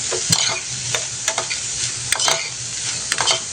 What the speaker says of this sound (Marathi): कांदाही आपल्याला चांगला परतून घ्यायचा आहे।